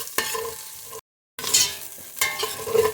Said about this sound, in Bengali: এবারে অ্যাড করব টমেটো কুচি